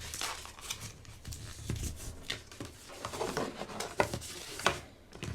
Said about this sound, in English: we're just going to accordion fold these pieces